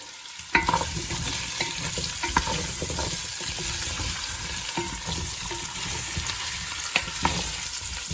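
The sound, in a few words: carrots frying in a pan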